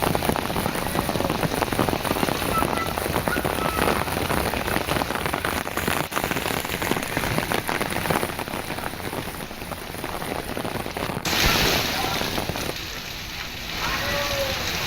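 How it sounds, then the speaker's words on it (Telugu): Steady rain pours over Hyderabad's Film Nagar area after a sudden weather change, a dense continuous hiss of drops striking surfaces with no talking, easing slightly and shifting tone toward the end. "ఫిల్మ్ నగర్ లో వాన పడుతోంది"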